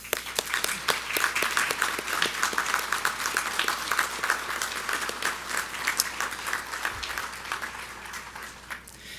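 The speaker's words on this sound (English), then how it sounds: "let's give everybody a round of applause again" A seated audience at a class of 2022 white coat ceremony applauds in a sustained round of clapping that swells at first and then slowly thins out, with no talk over it.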